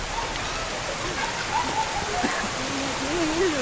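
Steady rain hisses down in a constant wash at a mountain resort, with faint voices and small tonal sounds drifting underneath.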